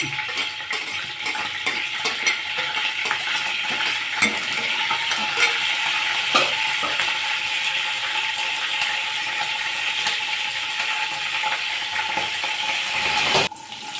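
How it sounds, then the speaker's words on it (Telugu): Fenugreek and mustard seeds fry in hot oil for Nellore-style vada curry, making a steady, close sizzle with scattered small clicks and crackles throughout. "సో ఫస్ట్ మెంతులు వేద్దాం, తర్వాత ఆవాలు."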